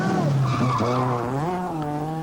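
A rally car at the 1986 24 Hours of Ypres braking hard into a skid, a loud close tire squeal with wavering pitch that dips and rises over about two seconds, engine tone underneath.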